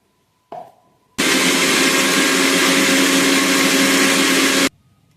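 A kitchen mixer grinder blends a spice paste with a little added water: a soft knock, then a loud, steady motor whine that runs for about three and a half seconds and stops abruptly.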